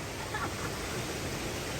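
Sagpulon waterfall rushing as a steady, continuous wash of broadband noise, close and fairly loud, with no speech over it.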